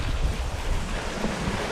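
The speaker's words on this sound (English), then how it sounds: "What with this wind that's gusting up to about 40 miles an hour" Strong gusting wind while cycling, with gusts up to about 40 mph, roars as loud, steady microphone buffeting and low rumble for the whole stretch, with no voices.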